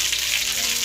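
Cumin seeds sizzle in hot oil for handvo, a steady close hiss of frying that runs evenly through the whole short moment without any voices.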